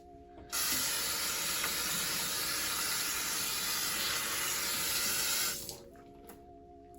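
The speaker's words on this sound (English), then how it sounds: "So I'm going to wash my hands right quick." A tap runs while hands are washed at a sink, a steady close rush of water that starts abruptly, holds for about five seconds, then cuts off to quiet room tone.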